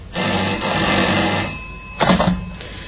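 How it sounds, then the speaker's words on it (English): Telephone bell ringing as a sound effect in a radio drama, a loud burst of ringing, a pause, then a second shorter ring, heard alone without talk. "Telephone rang once again."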